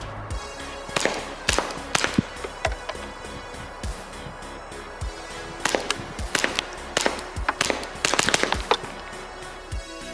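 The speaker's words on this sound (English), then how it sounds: "I wonder what it sounds like being shot at with suppressed 22 subsonic from, I would say, over 50 yards" Suppressed .22 subsonic pistol shots from an MK3 Firearms MKO, a run of sharp dry cracks in loose clusters, some spaced and some quick, fairly loud with no talking.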